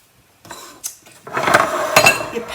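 A pan handled in a kitchen while making Easter nests, with a few close metallic clanks and clinks bunched into short bursts after a brief quiet start and no talk.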